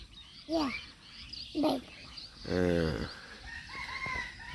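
Village chickens call several times at moderate distance, with short clucks and a longer drawn-out cackle in the middle, against a quiet rural background.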